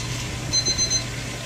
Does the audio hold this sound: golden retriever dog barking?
no